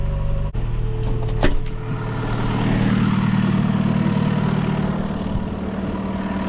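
An old John Deere 7000 series tractor engine running steadily while planting lima beans in a field, a loud, constant low diesel drone with a sharp click or clunk early on.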